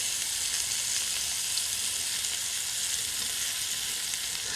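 Lamb meatballs browning in a frying pan, a steady close sizzle and crackle of hot oil, even and unbroken, moderately quiet, with no talking.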